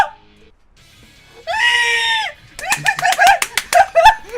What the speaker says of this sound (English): My goats!